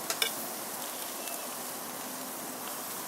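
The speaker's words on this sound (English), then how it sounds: "See, your onions are still grilling." Onions sizzling on a backyard barbecue grill, a soft steady hiss of frying with a few brief crackles near the start, continuous and fairly faint throughout.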